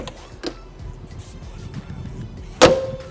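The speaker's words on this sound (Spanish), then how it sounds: "Esta puerta también abre bonito" A Porsche car door opening close by, heard as a few light mechanical clicks and then a sharp latch clunk near the end.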